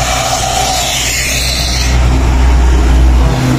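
A Hino trailer truck with a towed trailer drives past nearby, a steady loud engine drone that rises in low rumble toward the end as it passes.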